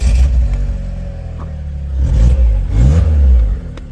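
A Lotus Elise, started with a push button, idles quietly, then its engine cranks and catches with a couple of rising revs, close and loud, with no one talking.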